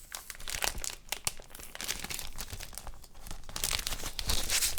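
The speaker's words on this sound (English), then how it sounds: "Let me take this out of the wrapper" A comic being pulled from its plastic wrapper, giving dense crinkling and tearing bursts of plastic close to the mic, no voices.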